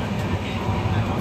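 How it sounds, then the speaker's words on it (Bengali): The Saraighat Express runs at about 120-130 km/h: a steady, dense rumble and rush of wheels and air inside the moving train, continuous throughout the short stretch. "স্পিডোমিটারে যা দেখছি, ট্রেন মোটামুটি 120-130 কিলোমিটার স্পিডে চলছে পার আওয়ার"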